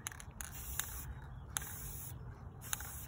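Short bursts of spray paint hiss from an aerosol can coating pencil tumblers outdoors, several brief sprays repeating at a steady pace over a low background rumble.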